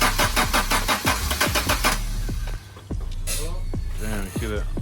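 Honda Accord CB7 engine cranking with a fast rhythmic starter churn for about two seconds, then catching and settling into a rough idle with a couple of revs, loud and close, with people talking over it.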